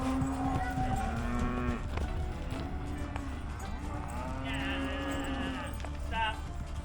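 Dairy cows on pasture moo repeatedly in long, drawn-out calls, several animals near and far, with open outdoor ambience and a person talking intermittently.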